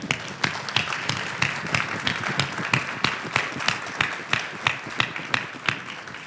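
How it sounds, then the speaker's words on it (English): Applause for nurses from an audience at a nursing advocacy and health policy event, a moderate spatter of claps with distinct sharper individual hand claps punctuating it, steady throughout. "give some applause for the nurses in this room"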